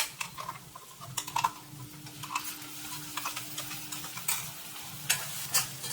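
Onion-tomato paste frying on a low flame for dhaba-style kaju paneer masala, a soft crackling sizzle with light ticking spatters and occasional stirring scrapes, close and quiet, no talking.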